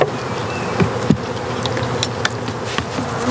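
Honeybees buzz around an open nuc hive in a dense, continuous close-up drone, with a few brief knocks and scrapes of equipment.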